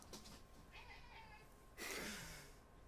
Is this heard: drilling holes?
no